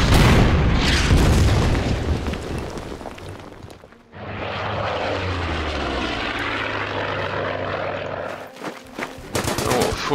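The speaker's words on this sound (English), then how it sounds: "Artillery will pound the foxhole." Artillery shells pound a foxhole in the wartime strategy game Order of Battle Pacific, with heavy booming blasts and a droning aircraft-like rumble that swells and fades over several seconds, loud and without talk.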